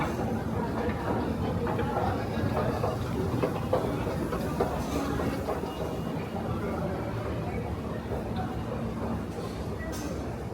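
A New York City subway 1 train rumbles and rattles steadily throughout, loud and close, with someone talking over the noise in Lower Manhattan.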